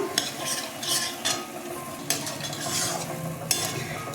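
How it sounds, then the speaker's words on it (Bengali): Gobindobhog rice stirred into frying spice paste in a pan for a fish-head murighanta, steady sizzle with repeated scraping stirs of a utensil, close and continuous, no voices. "মশলাটা কষানো হয়ে গেছে চালটা ছেড়ে দিলাম"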